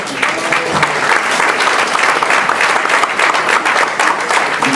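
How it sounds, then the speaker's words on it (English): Audience at a Puerto Rican Day panel discussion in Tallahassee, Florida, gives a round of applause for the Centro director, a loud, sustained crowd of clapping hands running evenly from start to finish. "let's give him a big round of applause"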